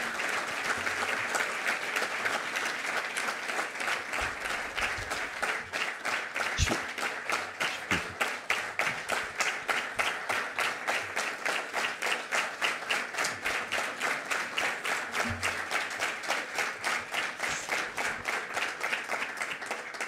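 Audience at a closing ceremony breaking into rhythmic applause, many hands clapping in unison with a steady even beat that carries on for a long stretch.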